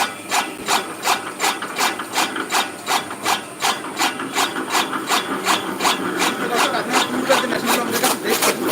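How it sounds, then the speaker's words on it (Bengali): A fodder grass cutting machine chops grass in a fast, even rhythm of rasping strokes, loud and close, and keeps going without a break. "চলুন আমরা আপনাদেরকে দেখাই যে কীভাবে খরগাস কাটিং করতে হয়"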